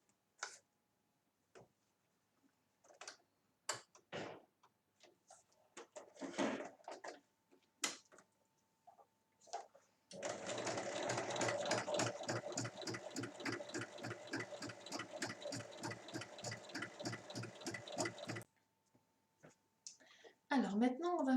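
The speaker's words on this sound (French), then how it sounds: "je vais venir donc la piquer sur toute la longueur à 1 mm ici, mais également de l'autre côté" Sewing machine running a long continuous seam close to the edge of a small fabric bag strap, a dense steady rapid stitching rattle lasting several seconds, preceded by scattered handling clicks and brief talk.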